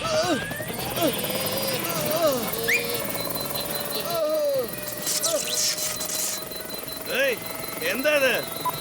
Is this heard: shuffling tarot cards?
no